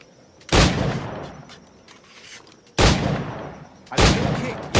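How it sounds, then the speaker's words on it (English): Three loud, sharp flintlock pistol shots in Assassin's Creed IV: Black Flag, spaced about two seconds apart, each with a sudden crack and a rumbling tail that fades before the next shot. No one speaks. "Pull off a few shots if you like, get a feel for it."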